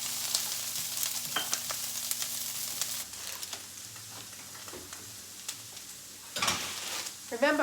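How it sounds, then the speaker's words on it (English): Pre-diced celery and a small onion sizzle steadily in oil in a pan, a continuous frying hiss with occasional stirring clinks and a louder burst of sizzle near the end. "Two stalks of celery, which are already pre-diced, and one small onion. And we're just gonna let this simmer."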